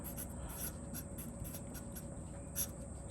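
Pen or marker writing on paper or a board during a math lesson, quiet steady scratching strokes with a soft low hum beneath and one brief louder tap near the end.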